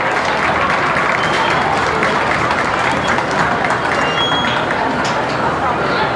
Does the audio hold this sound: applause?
yes